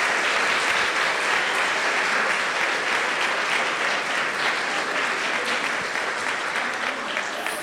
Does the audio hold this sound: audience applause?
yes